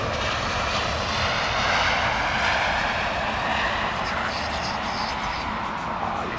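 A large aircraft's engines running at an airport in intense rain, a steady broad roar with a rushing hiss, constant and fairly loud throughout.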